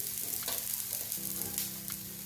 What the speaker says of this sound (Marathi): खमंग चांगले भाजून घेऊया तूप सोडून घ्यायचं आहे साईडनं